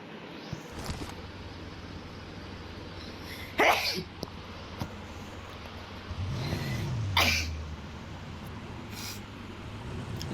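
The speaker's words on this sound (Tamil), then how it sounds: "சாரி, இருமுனது சாரி மக்களே" Two sharp, brief coughs from someone with a cold, a few seconds apart, over a steady low background hum during a PUBG gaming session.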